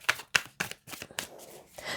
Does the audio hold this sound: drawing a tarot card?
yes